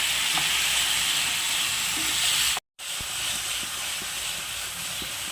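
Fried chicken is tossed into sauce in a hot pan, giving a steady, bright hiss of sizzling with faint stirring taps, broken by a short silent cut midway.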